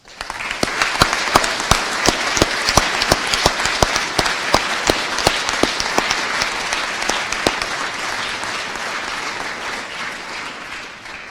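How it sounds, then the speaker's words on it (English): At a school graduation ceremony, a large audience applauds the graduates' parents with sustained, even clapping and sharp individual claps standing out, fading slightly toward the end. "Let us give a big round of applause to all the parents of graduates."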